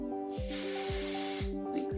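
A can of texture spray mists onto freshly curled hair, a steady airy hiss running through the whole stretch close to the microphone, with faint music playing underneath.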